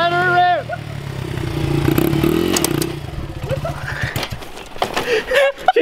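BMW car engine being revved while still cold, its rough, loud roar rising and clattering close by, with people talking and shouting over it.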